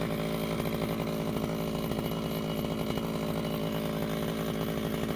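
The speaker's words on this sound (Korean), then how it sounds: "지금 풀을 자르고 있는데" Power cutter trimming grass beside a rice paddy, a continuous close engine drone with a steady buzzing pulse throughout.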